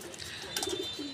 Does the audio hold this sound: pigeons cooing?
yes